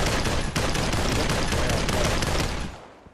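Gunfire from a CX4 gun in the VR game Population One, dense rapid bursts of loud close shots sustained for nearly three seconds before tailing off.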